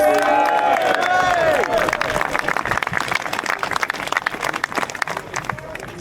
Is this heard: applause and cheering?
yes